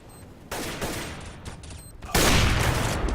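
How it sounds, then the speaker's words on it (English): Rapid gunfire bursts from CS:GO on the de_dust2 map, with several close, loud volleys and the heaviest barrage coming near the end. "GMX will get that shot on Dosia"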